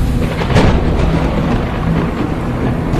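A loud thunderstorm pours steady heavy rain, with deep rolling thunder and a sharper crack near the start, and no voices.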